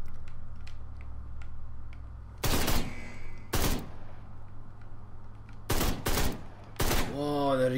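Gunfire during shooting training in the Ride To Hell: Retribution video game: four or five sharp, loud bursts of shots, some doubled, separated by quiet gaps, with faint ticking and a mechanical hum between them.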